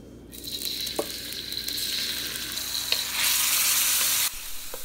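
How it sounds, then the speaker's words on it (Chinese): Preserved radish sizzles and crackles in hot oil in a wok, a close, continuous fry broken by a few metal scrapes of stirring, swelling briefly louder near the end. "把这个菜脯在油锅里面翻炒一下，炒出香味来"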